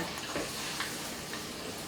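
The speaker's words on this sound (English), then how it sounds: "my butter is melted in real good and my garlic is sizzling" A faint, steady sizzle of garlic frying in melted butter in a pan, soft crackling hiss with light ticks, no voices.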